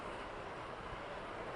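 Union Pacific model train rail cars rolling along an indoor track, a steady, even running hiss and rumble that holds constant throughout with no speech.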